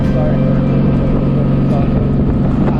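A motorcycle engine drones with a low, steady rumble under loud wind buffeting, recorded by a helmet-mounted GoPro on a group warrior ride along a highway, constant and close with no break; speech is faintly buried in the roar.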